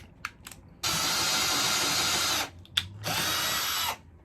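Power drill running on its lowest gear for torque, whirring loudly and steadily in two long bursts with short pauses and faint clicks between them.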